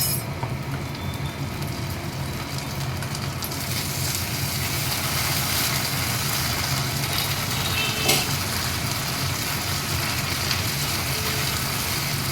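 Ginger paste frying in hot oil with onion, a bay leaf and a dried red chili, giving a loud, continuous close sizzle and crackle that holds steady throughout, with no talking.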